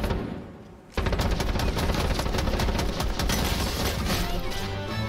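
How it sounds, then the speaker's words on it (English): Hipfire machine pistol in Strinova, a sudden sustained stream of fast, loud, close shots that rattles on steadily for several seconds. "If the hipfire machine pistol doesn't do its job"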